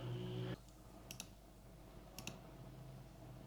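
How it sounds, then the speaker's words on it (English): A computer mouse clicks on the edit levels button in JForex trading software, two quick pairs of sharp, faint double clicks heard close by in a quiet room after a low hum fades. "I'm going to click on edit levels"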